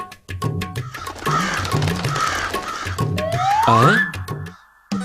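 Crows in an animated cartoon caw repeatedly in a loud rhythmic series, then a rising, siren-like whine swells and holds before cutting off abruptly.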